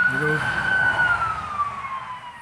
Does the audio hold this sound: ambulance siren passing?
yes